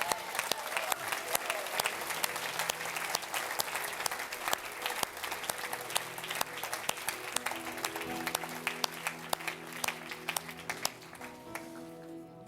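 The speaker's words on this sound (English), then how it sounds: "let's give Jesus a clap" A church congregation claps together in a sustained round of applause, crisp individual claps sounding fairly soft and distant, with faint voices underneath.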